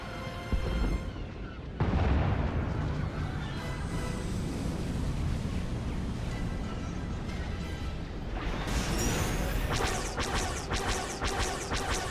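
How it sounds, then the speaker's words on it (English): Enemy starship cannon fire during a space blockade battle in Star Wars: The Old Republic, a dense, roaring wall of blasts and rumbling impacts that swells, then gives way to rapid sharp laser-like shots near the end. "Enemy ships are opening fire."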